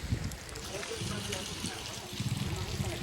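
A river running high after rain, a steady close rush of flowing water with a low rumble underneath, continuous throughout and fairly loud.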